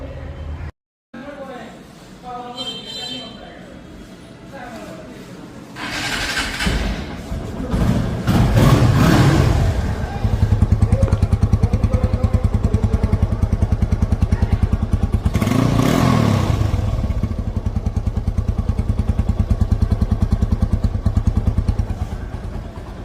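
A TVS Apache RTR 150 motorcycle idles and is revved in loud, rising surges, with thumps and clatter nearby; someone talks over the engine throughout.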